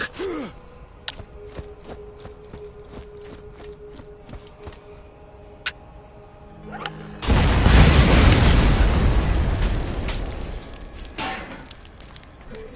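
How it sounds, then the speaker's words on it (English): A loud explosion blast from the video game Borderlands erupts about seven seconds in, a sudden broadband boom that rumbles and decays over several seconds after quieter game sounds and a sigh-like breath. "I heard that blast all the way over here!"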